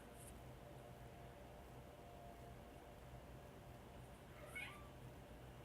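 A single faint meow from a cat partway through, over a steady background hiss.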